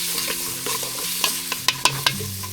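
Onions frying in a pan at a home birthday cooking session, a steady broadband sizzle with several sharp utensil clacks and stirring scrapes, close up, with no talk over it.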